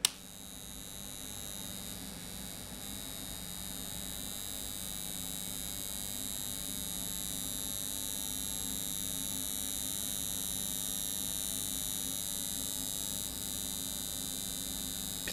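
A current test rig passes 102 amps through a modified circuit breaker, giving a constant, even electrical hum and buzz close by that holds steady throughout with no talk.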